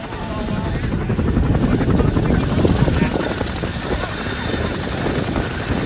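Loud, steady rotor thump and engine roar from inside a Montana National Guard Blackhawk helicopter in flight over Helena, constant and close throughout, with faint voices underneath.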